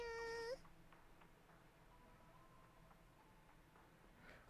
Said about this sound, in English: that meow you just heard, I'm pretty sure that's the same VA as Robin and Star Rail and Prune in Genshin